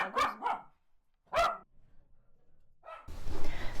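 A dog barks in short separate bursts, two quick barks, then another, and a final one, fairly close and loud, before a sudden burst of broadband noise near the end.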